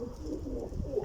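Domestic pigeons in a loft at night give a low, soft, continuous cooing, close by, with no talk over it.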